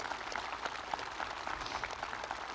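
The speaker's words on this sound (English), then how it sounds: "Could we give those folks a round of applause" Applause at the Ashland High School class of 2024 graduation ceremony, a fairly quiet, distant patter of many hands clapping steadily throughout, with no speech over it.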